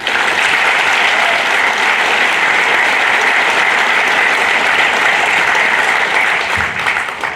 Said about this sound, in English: Let's hear it for Freddie Lang.